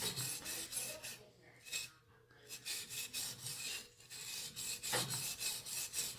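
Steady rhythmic rasping strokes of a blade drawn back and forth across a soaked 400 grit whetstone in a guided sharpening system, close and continuous with brief pauses.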